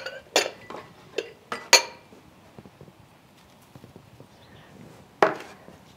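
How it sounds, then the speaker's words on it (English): Vegetables and spices are stirred in a metal pot over a rocket stove, a spoon clanking sharply against the rim in a few scattered loud knocks with softer scrapes between, near and with no talk. "Stir this up a little bit."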